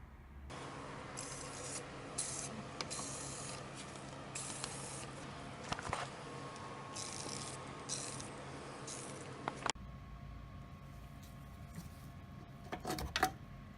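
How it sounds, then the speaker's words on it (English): Cleaner sprayed onto a classic Mini engine during restoration work, a steady hissing spray lasting several seconds at close range, then quieter handling and a few light clicks. "just clean it up best I can and give it a quick spray so it's a little bit tidier"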